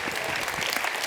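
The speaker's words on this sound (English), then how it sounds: "Give Caroline a round of applause, please." A brief burst of audience applause at a live talk on energy and high performance, dense steady clapping from a crowd, loud and close, with no voice over it.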